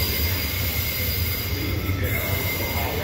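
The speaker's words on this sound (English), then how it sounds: "the train's on platform 9" A train stands at platform 9 on a trip to Maryborough, giving a constant low rumble with a thin high squeal of wheels or brakes, steady and fairly close, with faint voices nearby.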